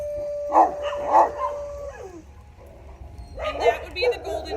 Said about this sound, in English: that would be the golden doodle howling in the back